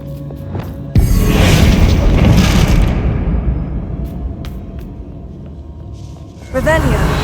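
Bombarda spell explosion in Hogwarts Legacy lands as a sudden loud boom with a rumbling tail that fades over several seconds, then a second burst near the end.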